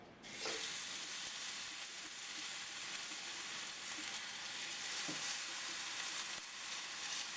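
Salt-and-pepper seasoned beef sears in a very hot pan with olive oil, giving a continuous, even sizzle with faint crackles and a few soft clinks.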